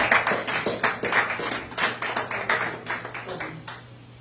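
A church congregation at a Sunday service claps in rhythmic bursts, a dense patter of many hands pulsing steadily and fairly close, with faint voices underneath.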